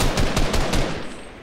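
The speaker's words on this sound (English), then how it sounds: "someone's shooting at me as I'm landing" Rapid gunfire rattles in a shooter video game, a close burst of about four or five sharp shots in quick succession that then trails off into quiet.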